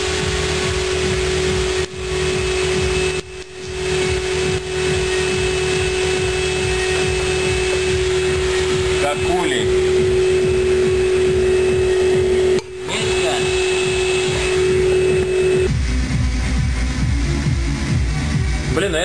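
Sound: levitation induction heater running

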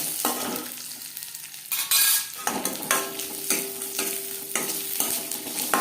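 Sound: cashews and raisins frying lightly in ghee

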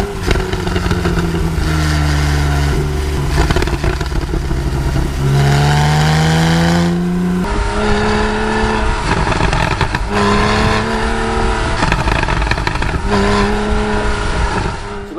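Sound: Porsche 911 GTS naturally aspirated exhaust note on the road

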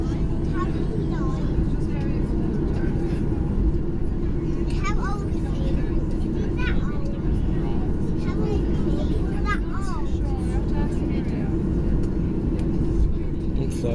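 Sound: airliner wing flaps retracting after landing at Cork

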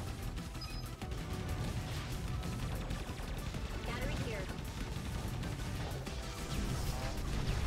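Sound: rocket fired in a video game

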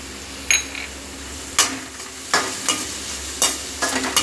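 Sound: grated ginger, onion and green chilli frying in a pan

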